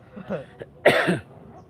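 A man coughs in a short, harsh burst near the mic, preceded by a fainter throat sound, during a rainy livestream.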